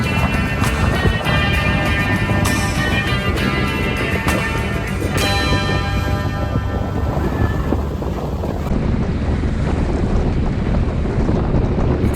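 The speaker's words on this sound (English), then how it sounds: "After rounding Cape Bread, the wind filled to a good 15-knot breeze." Wind buffets a sailboat running under mainsail alone in a 15-knot breeze, a loud steady rush across the microphone with water noise beneath it and no talk.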